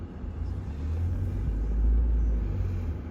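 Truck engine rumbling low and steady while backing up in snowy conditions, a close continuous drone that swells slightly midway.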